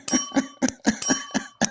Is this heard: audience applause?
no